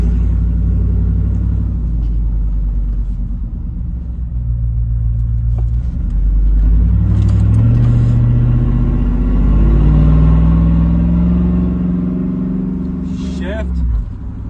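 A vehicle with a 4L60E transmission pulls away in first gear, its engine rumbling close and rising in pitch as it accelerates, with a voice speaking over the sound.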